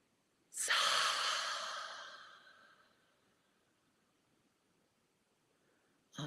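A single slow, deep breath let out during a breathing exercise, a long breathy exhale that swells quickly and fades over about two seconds, close and alone, followed by quiet and the start of another breath.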